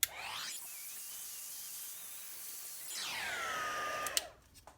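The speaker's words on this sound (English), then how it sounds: "I'm just going to get my heat gun and heat these up just for a few seconds" A heat gun drying freshly stamped ink on a wheat wreath card runs with a steady, loud whirring hiss, its pitch sweeping up as it starts and winding down before it clicks off.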